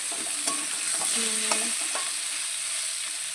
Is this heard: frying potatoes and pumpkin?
yes